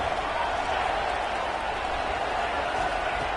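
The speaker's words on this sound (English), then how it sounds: "Listen to the crowd energy here in the early going." A college football crowd roars at an Ole Miss game: a dense, steady wash of cheering and applause that fills the space evenly and stays loud throughout.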